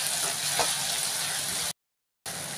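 Rajma curry with salt and turmeric sizzles and hisses softly in a pan as it is stirred, a steady frying crackle that cuts off abruptly before resuming briefly.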